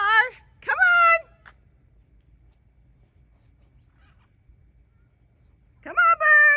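Harsh, raucous squawks from free-flying macaws ring out in two quick bursts, then silence, then more loud screeches return near the end.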